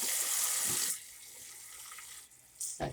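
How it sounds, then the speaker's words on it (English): A kitchen tap runs cold water to rinse food: a loud, steady rushing flow that drops to a softer trickle, then surges again as the stream shifts. "We're gonna rinse them a couple times with cold water here."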